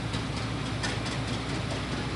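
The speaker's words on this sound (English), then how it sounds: "Here comes the John Deere Green tractors." John Deere green tractors rolling past in a county fair parade, several in a row, a steady loud engine rumble close by with no break.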